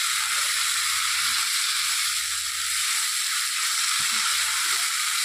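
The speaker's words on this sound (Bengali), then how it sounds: "এখন এটা ভালো করে একটু ভাজতে হবে। 4 থেকে 5 মিনিট আমি এটাকে এভাবে ভালো করে ভেজে নেব।" Raw banana peel fries in a pan with a steady, loud sizzle and hiss, with a few faint clicks and knocks underneath.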